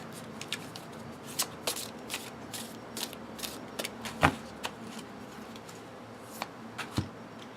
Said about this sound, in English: you can even do the side shuffle that you can also do because it is a thinner cardstock.